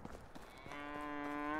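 A cow in Medieval Dynasty lets out a single drawn-out moo, faint and rising in pitch, lasting about a second, with no voices over it.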